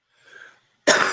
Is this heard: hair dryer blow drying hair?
no